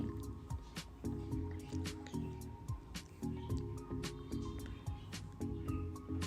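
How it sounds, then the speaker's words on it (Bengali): Milk mixed with custard powder is poured into a pan of boiled carrots, giving soft drips, squishes and liquid trickles over a faint background hum, close and fairly quiet. "যেই দুধটায় কাস্টার্ড পাউডার মিশিয়ে রেখেছি সেই দুধটা দিয়ে দিচ্ছি"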